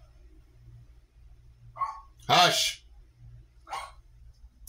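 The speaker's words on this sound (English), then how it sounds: "Jack Russell, Beagle, some other stuff. Makes him bark a lot." A Jack Russell and Beagle mix dog lets out one loud, sharp bark indoors, with a person's short spoken word just before it and another faint voice sound shortly after.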